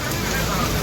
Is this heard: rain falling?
yes